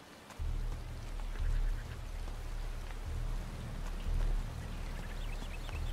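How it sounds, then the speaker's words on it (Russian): Heavy rain pours steadily in the Gothic 2 video game, a dense hiss spread across the clip with low rumbling thumps of thunder or wind swelling several times, no voices. "Тут такие дождяры льют."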